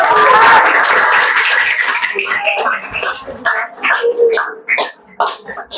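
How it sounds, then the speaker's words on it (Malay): A room full of people clapping for the groups, loud and dense at first, then thinning into scattered claps with talk mixed in. "beri tepukan untuk kumpulan masing-masing"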